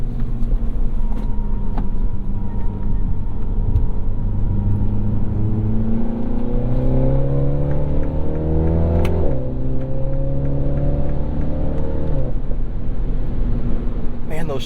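A 2022 Mini JCW Convertible driven hard on a track, its loud engine note climbing steadily through the revs, with two sharp upshifts that each drop the pitch abruptly before it rises again.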